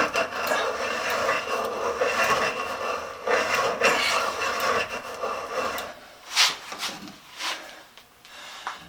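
Hand-sharpened reamer grinding into metal, a steady broadband rasping scrape that runs continuously, then breaks into a few separate louder strokes near the end, close and fairly loud.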